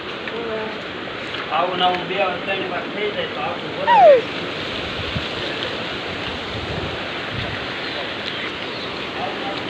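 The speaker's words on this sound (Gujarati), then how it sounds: "આપણી વાડ વહી ગઈ છે અને પાણી જો અહીં સુધી આવે છે" Floodwater rushes loudly and continuously past a village after heavy rain, a broad close roar of flowing water with people talking briefly over it.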